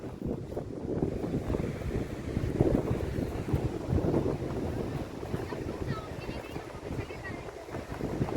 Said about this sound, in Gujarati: પાણીના મોજા આવે છે ઠંડો ઠંડો પવન છે